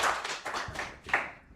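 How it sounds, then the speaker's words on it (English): Applause from a conference audience for a speaker named Katie, dense clapping with a quick burst near the end, fading slightly over a short stretch. "a big round of applause for Katie"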